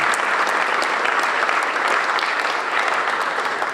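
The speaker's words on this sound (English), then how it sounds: "Let's give him another round of applause." A crowd at a film studio opening in Buffalo claps steadily, producing a dense, even wash of applause that holds at a constant level throughout.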